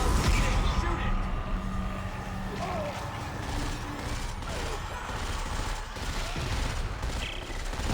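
Dead Space 3 gameplay fills with dense, continuous gunfire and mechanical weapon clatter, loud and sustained over several seconds, with voices partly buried in the action.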